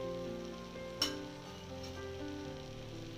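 Vegetables for Bhogi sabzi, including broad beans, papdi, peas and brinjal, sautéing in a pan with a faint steady sizzle and one soft clink near the start.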